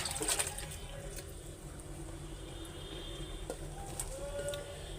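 Leafy greens with a little sand in them are rinsed in water, a faint swishing and trickling with light splashes and occasional clinks, continuing at low volume against a background hum.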